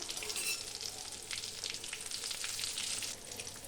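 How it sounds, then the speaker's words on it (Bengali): Eggplant slices fry steadily in oil over medium heat, a continuous close crackling sizzle with fine popping and no talk. "আর মিডিয়াম আঁচে ভেজে নিতে হবে। আমি যেমন মিডিয়াম আঁচ রেখেছি এখানে।"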